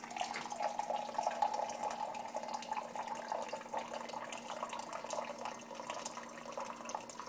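Brewed soft tea is poured out in a steady, quiet trickle of liquid, continuous and close with a faint hum underneath.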